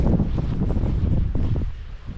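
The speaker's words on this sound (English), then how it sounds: "I'm sorry about the wind" Wind buffets an unshielded microphone outdoors in a cemetery, a loud, rumbling, continuous roar with gusty surges that drowns out everything else.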